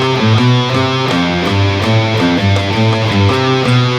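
Distorted electric guitar plays a riff built on a major second, as a loud, steady run of rhythmic picked notes.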